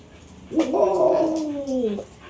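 A dog lets out a drawn-out, wavering whimper lasting over a second, nearby and fairly loud, with no talking over it.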